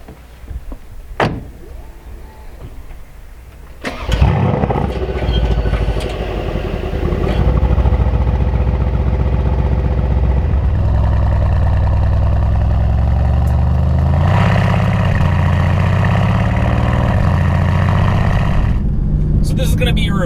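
A tuned Mercedes-AMG C63 S fires up with a sharp burst, then settles into a loud, steady, deep idle that rumbles on close by, with a faint click or whir heard before the start.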